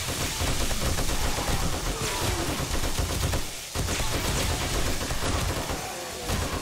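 Dense, rapid gunfire from the survival video game 7 Days to Die during a horde night rattles almost without pause, loud and close, breaking off briefly midway before resuming.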